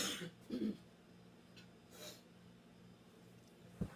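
A person clears their throat and coughs away from the microphone, a few faint short bursts separated by quiet gaps.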